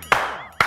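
Two sharp hand claps about half a second apart, close and bright, each with a short ringing tail in an otherwise quiet room.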